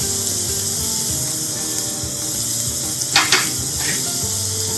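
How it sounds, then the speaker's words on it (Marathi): Spices with chili powder and salt sautéed in a pan for Marathi-style egg keema: continuous close, bright sizzling with a few scraping stirs near the end, no talking. "छान सगळ्यांना परतून घ्यायचं"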